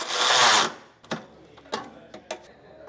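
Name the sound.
socket wrench tightening hitch nuts, 19mm socket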